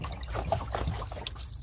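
Trapped rainwater sloshes and trickles inside the door of a BMW E60 with blocked door drains as the door is shaken, faint and close, with a few wet gurgles.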